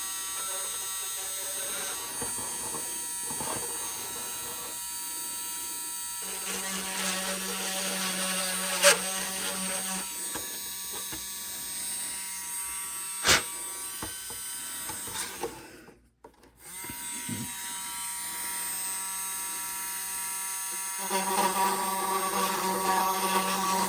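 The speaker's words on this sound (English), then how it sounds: "Remove any sort of burr along the edge there." A tool buzzes steadily while deburring the edge of a polycarbonate RC car body. The whirring runs in long sustained stretches with a few short breaks and sharp ticks, and nobody speaks.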